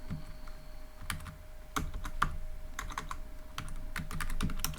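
Fingers type code on a computer keyboard in quick bursts of close, crisp key clicks with brief pauses between runs.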